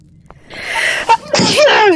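A single sharp sneeze bursts out during a game stream of Deducto or Cave Crawlers, followed by a voice speaking.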